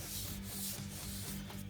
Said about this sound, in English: I'm going to go get me some 400 grit to continue sanding